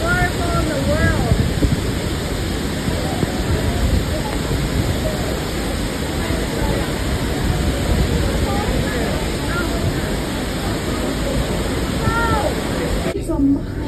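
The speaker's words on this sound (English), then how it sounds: "The biggest waterfall in the world." Niagara Falls roars as a dense, steady wash of falling water with wind buffeting the microphone, continuous for about fourteen seconds and cutting off briefly near the end.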